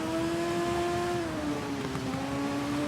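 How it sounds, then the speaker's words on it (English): A racing motorcycle engine in the TT Isle of Man video game holds a sustained, loud, droning rev that dips slightly in pitch midway. "sounds are pretty nice in this game. The engines, I wouldn't say they're horrible, I wouldn't say they're bad."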